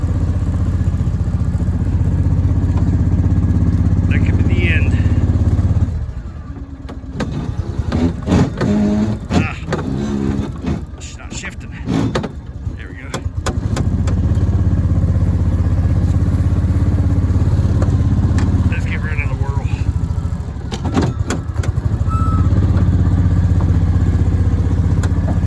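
A vehicle engine stuck near idle while the wheels spin without traction on a small hill during firewood hauling, a steady loud low drone with clattering and rattling bursts through the middle.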